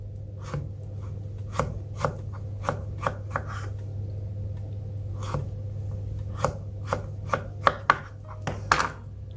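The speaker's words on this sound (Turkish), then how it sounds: "fazla tepeye gitmeden kesiyoruz kabaklarımızı" A knife slices lengthwise through zucchini on a cutting board, a series of sharp, close taps in uneven rhythm that bunch together near the end, over a steady low hum.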